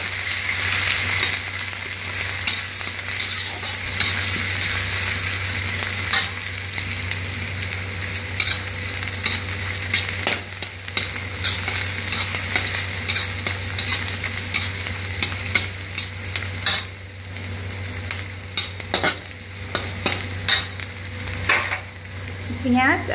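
Steady sizzling fills the clip as garlic fries in a hot pan, with occasional scrapes and stirring clatter.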